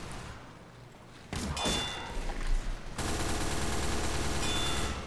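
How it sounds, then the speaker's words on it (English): Rapid SMG gunfire in Team Fortress 2, a dense continuous burst of shots that starts abruptly partway through and runs loud to the end, with clanging impacts mixed in. "if no SMG shots connect right there"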